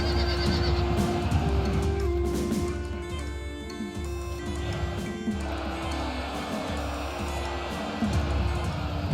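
Cavalry horses neigh and whinny amid a battle charge, with layered, sustained horse calls over a rumbling low din of galloping and clamor.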